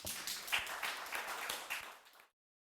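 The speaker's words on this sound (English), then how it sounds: "Big round of applause." Audience applause at an academic session on exhibiting and commemorating contested territories, a dense burst of clapping from a seated crowd that runs steadily for about two seconds and then stops abruptly.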